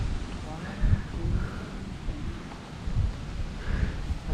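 Strong gusts of wind buffet the microphone at an outdoor hilltop cycling spot in Montalban, making uneven low rumbling thumps that swell and fade every second or so.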